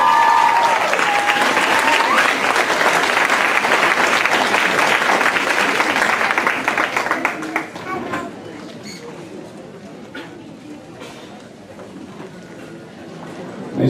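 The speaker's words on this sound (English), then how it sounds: "Give her a round of applause." A crowd claps for the women's first-place overall finisher at a 5K community race in Olmsted Falls, a dense burst of applause that stays loud for several seconds, then thins to scattered claps and quiet chatter.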